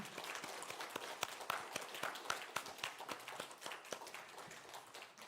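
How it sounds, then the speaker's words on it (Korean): Congregation at a Parents' Day Sunday worship service applauding, a soft, somewhat distant spell of scattered clapping with distinct individual claps. "우리 하나님께 감사의 의미로 또 우리 어버이 어르신들께 감사하는 의미로 박수 한번 하도록 하겠습니다"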